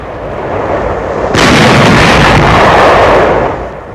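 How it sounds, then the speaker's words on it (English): WWII guns fire on enemy barges on the Rhine before Dusseldorf, a heavy booming roar that swells abruptly over a constant noisy background and then fades. The sound is loud, dense and distorted, with no speech. "Firing on enemy barges in the Rhine before Dusseldorf."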